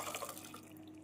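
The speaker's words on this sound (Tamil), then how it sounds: "ஜவ்வரிசி இந்த அளவு நன்றாக ஊறி வரவும் வடிகட்டி எடுத்து விடலாம்." Water drains and drips from soaked sago pearls through a strainer, a soft trickling and pattering that starts fuller and thins out toward the end.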